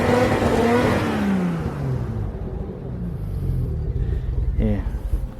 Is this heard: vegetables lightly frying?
no